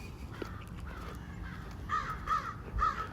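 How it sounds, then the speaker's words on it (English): A crow caws three times outdoors near a house by a street, the harsh calls spaced about half a second apart over steady background noise, moderately close. "There's a crow right now."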